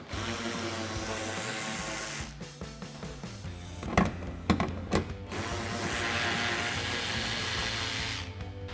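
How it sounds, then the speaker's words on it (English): A hand ratchet with a 7 mm socket backs out factory screws on the fender trim of a 2019 or later RAM 2500 truck, with bursts of quick clicking and a few sharper metallic knocks, close and moderately loud, with no talk. "So we've got our 7 mil socket on our ratchet, we'll get those off."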